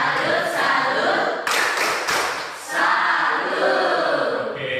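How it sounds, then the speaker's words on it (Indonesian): A school class claps a rhythmic salute in unison, with bursts of hand clapping in a patterned beat, loud and close in a classroom. "Kita dulu tepuk salut buat teman kita"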